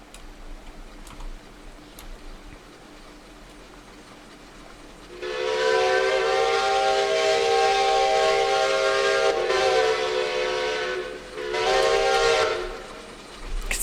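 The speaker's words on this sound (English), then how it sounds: "seeing the train run through here, it's just cool" A steam locomotive runs in the Century of Steam railroad game on the Keystone map, its whistle sounding a long, loud, harmonic blast, dropping briefly, then a second shorter blast over a low rumble of the running train.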